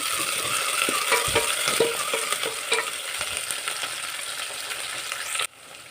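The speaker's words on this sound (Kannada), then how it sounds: "ಈಗ ಈರುಳ್ಳಿನ ಹಾಕೊತ ಇದ್ದೀನಿ ಮತ್ತು ಹಸಿಮೆಣಸಿನ್ಕಾಯಿನ ಹಾಕ್ಕೊತಾ ಇದ್ದೀನಿ ಸೊ ಮತ್ತು ಮೆಂತ್ಯ ಸೊಪ್ಪನ್ನ ಹಾಕ್ಕೊತಾ ಇದ್ದೀನಿ ಈಗ ಫ್ರೈ ಮಾಡ್ಕೊಳ್ಳೋಣ ಸ್ವಲ್ಪ" Onions, green chilies and fenugreek leaves fry in hot oil for a chicken gravy, a steady close sizzle with scraping stir strokes throughout, cutting off abruptly near the end.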